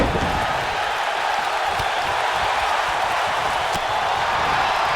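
Wrestling arena crowd at a Smackdown event: a dense, continuous roar of voices and noise filling the space, steady and loud throughout without distinct claps or individual words standing out.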